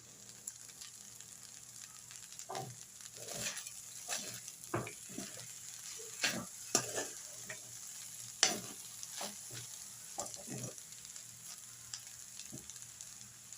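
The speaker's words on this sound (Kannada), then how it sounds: "ಈಗ ರೈಸು ಮಿಕ್ಸ್ ಮಾಡಿದಾಗಿದೆ ಕೊತ್ತಂಬರಿ ಸೊಪ್ಪು ಹಾಕ್ಕೊಳ್ತಾ ಇದ್ದೀನಿ" Coconut rice with coriander leaves stirred in a pan, with repeated scraping and tapping of the spoon over a soft steady sizzle, close and moderately quiet, no talk.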